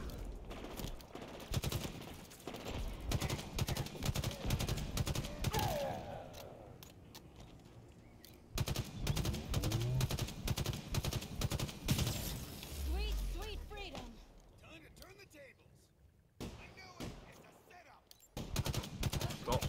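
Assault rifle gunfire in Halo Infinite, rapid automatic bursts and sharp repeated shots in close succession, broken by brief pauses, with a player talking over the fighting.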